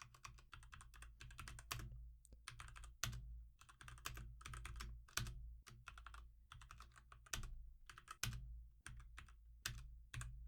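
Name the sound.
typing code on a computer keyboard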